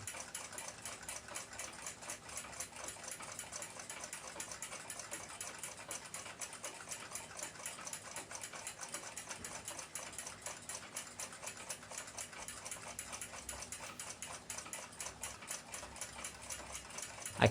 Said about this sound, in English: Now to ream the hole out at a right angle to the center mount.